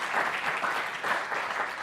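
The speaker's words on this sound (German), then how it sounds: "Can you give him a round of applause?" Steady audience applause at a business presentation event in Vienna, a dense crackle of many hands clapping continuously at moderate volume throughout, with no pauses.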